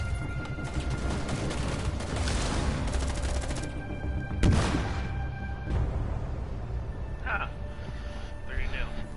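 Rapid bursts of gunfire ring out in a Rainbow Six Siege match, with dense firing early and a sharp blast midway, while players talk over the shooting.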